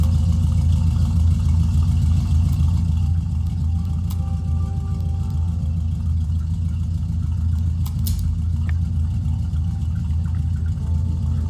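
Vehicle engine in the video game Fallen Earth runs loud and steady, a continuous low drone with a whirring tone and slight revving throughout.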